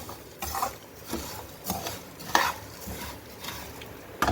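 Areca nut pieces roasting in ghee on a low flame, stirred with a spoon against the pan in a steady rhythm of scraping clinks over a faint sizzle, close and without talk.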